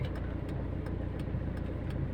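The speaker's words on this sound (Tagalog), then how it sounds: "Ay, taxi." A taxi car drives past on a street, giving a brief steady engine rumble with faint periodic ticks, fairly close and heard alone.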